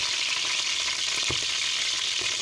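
Oil left in a pan after chicken has been removed fries with a steady, bright crackling hiss at close range, with occasional soft pops and no one talking.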